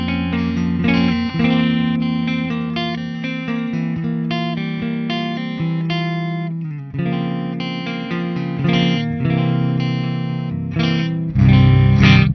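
Ibanez electric guitar played through the neck pickup with a thick, warm distorted tone, sustained chords ringing continuously at steady loudness.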